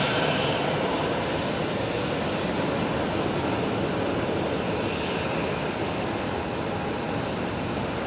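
A Qantas airliner touches down at Brisbane Airport, heard as a steady, fairly distant broadband roar of engines and rushing air that holds level without clear peaks.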